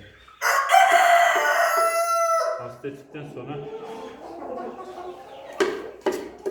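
Chickens cluck and a rooster crows nearby in a backyard flock, the crow long and loud at first, followed by scattered clucks and short calls, with someone speaking briefly over the birds.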